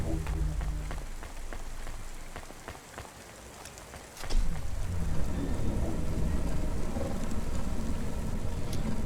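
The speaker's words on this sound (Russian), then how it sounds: "Дождик лучше, чем в припаре пятом." Steady rain pours in the neon city of the Cloudpunk video game, a constant hiss that briefly thins out before returning louder, with soft drips and a faint low rumble of traffic underneath.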